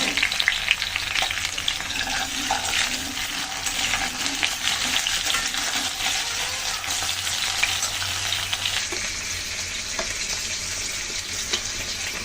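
Taro roots added to lightly sautéed vegetables fry in a pan, a steady dense sizzle with scraping stir strokes running throughout, close and continuous with no talking.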